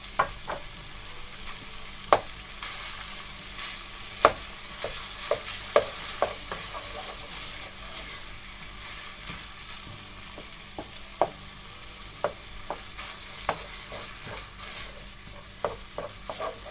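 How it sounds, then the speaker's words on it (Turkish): Solid fat melts and fries in a pan of browned filling for içli köfte, a soft steady sizzle punctuated by sharp spoon scrapes and taps against the pan, close and without talk. "Yağ eriyene kadar Yine kavuruyorum."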